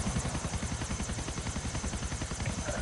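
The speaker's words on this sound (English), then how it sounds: "I'm doing donuts in a helicopter. In front of a cop." Helicopter flying low in GTA 4, its rotor giving a steady rapid thumping that stays loud and close throughout, with no voices over it.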